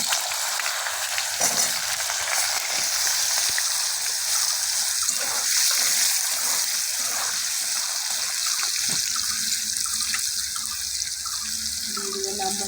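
Potatoes with cumin seeds, a cardamom pod and oil frying in a pan make a loud, steady sizzling hiss close up, with faint scraping of a spatula stirring the pan beneath it.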